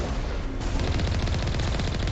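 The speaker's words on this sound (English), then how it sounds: "And changed the gun noise for some reason." A tank cannon firing in Mass Effect Legendary Edition, loud and near, a fast, steady stream of punchy shots packed tightly together throughout.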